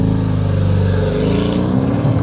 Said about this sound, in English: Now accelerate quickly up to speed